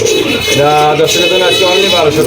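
Racer pigeons at a pigeon sale coo steadily close by while someone talks loudly over them the whole time.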